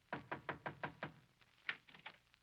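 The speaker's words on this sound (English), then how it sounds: "I wonder what a knock here will bring." A radio-drama door knock: five evenly spaced, firm raps, then a short pause and a few lighter, irregular knocks, all quiet and alone.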